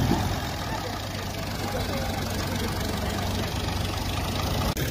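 An Al Ghazi tractor idles nearby with a steady, even engine drone and a low hum that holds throughout, while voices talk over it.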